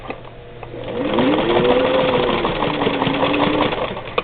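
A 1952 Singer 15-91 sewing machine runs steadily as it stitches a dog leash, its loud, even motor hum rising and settling over a few seconds, close and alone.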